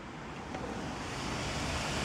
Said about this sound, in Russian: Вот такой сильный у нас ветер.